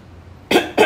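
Two short, sharp coughs in quick succession, close and loud, following a brief quiet moment.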